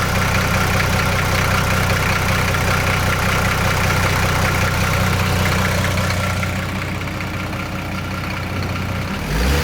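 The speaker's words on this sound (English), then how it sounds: "So although the truck started and ran amazingly well actually, considering it's been sat for 25 years" Old ESARCO 8x8 truck with an indirect-injection diesel engine, idling loud and close with a steady low throb after sitting unused for 25 years.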